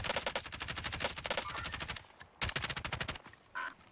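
Automatic gunfire in the video game Warzone rattles in rapid sustained bursts, a long stream, a short pause, then another burst and a final short volley, close and dominant with no talk.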